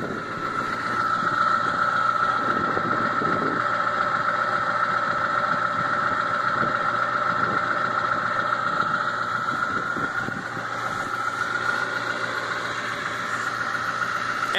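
A school bus engine idles steadily while warming up, a constant close mid-pitched rumble that holds even throughout with no speech.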